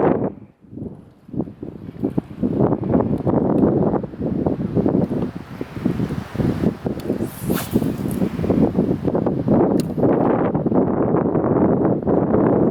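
Strong, gusty wind roars steadily into the microphone on a lake, buffeting and rumbling with constant surges, with faint water and boat sounds beneath.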